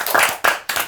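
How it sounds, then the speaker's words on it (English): A few podcast hosts clap their hands close to the microphone in three quick, loud bursts, the claps sharp and dry with brief gaps between them. "should we have a round of applause?"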